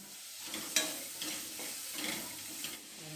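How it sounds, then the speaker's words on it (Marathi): Tomato and masala sauté in a pan over a low flame while a spoon stirs them. The sizzle is soft and close, with a sharp clink of the utensil near the start and rhythmic scraping after it. "टोमॅटो टाकून थोडासा मसाला टाकून परतून घेऊया।"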